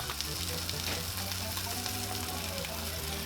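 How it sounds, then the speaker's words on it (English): Cajun alligator pork sausages browning in a skillet with a little canola oil give off a steady, close, even sizzle that holds without a break. "And I did add a little bit of canola oil into this skillet as well to kind of help them cook a little bit."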